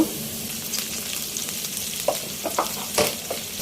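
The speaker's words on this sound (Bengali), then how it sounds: "পেঁয়াজ বাটাটা দিয়ে দিব।" Onion paste added to onions already fried red in a pan for a fish head curry sizzles loudly, with a few sharp spoon clinks and stirring scrapes near the end.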